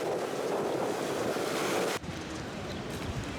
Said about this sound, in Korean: 여섯 개의 풍차가 올려다 보이는 바닷가의 파도 소리가 여간이 아니다